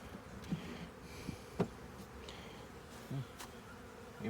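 Bees buzzing around a newly set up beehive outdoors, a steady soft insect hum with a few louder close passes and brief bumps.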